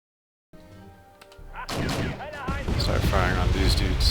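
Tanks firing in the Cold War strategy game Wargame: European Escalation: heavy booming cannon blasts and rumbling gunfire that build into a continuous loud barrage, with in-game voices audible early on.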